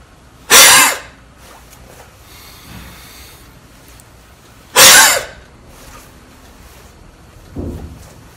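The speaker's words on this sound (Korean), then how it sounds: "복압과 흉곽의 압력을 이용해 배를 아주 강한 압력으로 짜주는 듯한 동작으로 기침을" Two sharp, forceful, deliberate coughs for clearing mucus, several seconds apart, close and loud, followed by a softer third burst near the end, with quiet breathing between.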